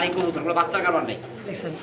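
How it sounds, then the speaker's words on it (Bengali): Male Indian Lotan pigeons coo close by in soft, throaty rolling calls, with someone talking over them throughout. "ভাই বোবা কবুতর না সব ডাকাই দেখেন"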